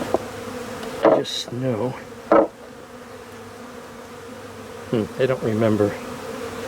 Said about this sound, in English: oh, I got a bee investigating me.